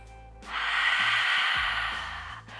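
A single deep inhale through an open mouth during a morning yoga session, a breathy rush of air lasting about two seconds that swells and then fades, close and clear over faint background music.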